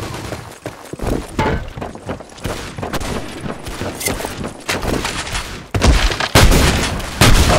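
Rapid bursts of gunfire from the BlackShot shooter game, sharp repeated shots in quick volleys with louder blasts toward the end, loud and close.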